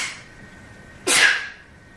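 A single sharp sneeze bursts out in a quiet room and fades within half a second, with nothing else heard.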